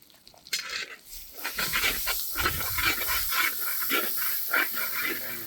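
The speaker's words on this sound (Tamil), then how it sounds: "இந்த டைம் நூற்றம்பது கிராம் இஞ்சி நூற்றம்பது கிராம் பூண்டு சேர்த்துக்கிறோம்" Ginger and garlic dropped onto onions sautéing in a pan for a Kerala-style mutton coconut fry give a sudden loud sizzle, then a steady hissing crackle with irregular spitting pops that lasts throughout.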